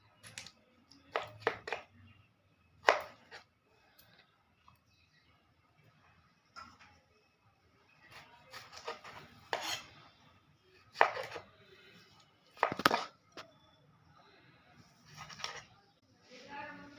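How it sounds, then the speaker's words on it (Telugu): Knife chopping green chillies on a board in a village kitchen for coriander chutney: scattered sharp taps and thunks in short irregular bursts with quiet gaps, close and moderately loud. "ముక్కలుగా కట్ చేసుకోవాలి."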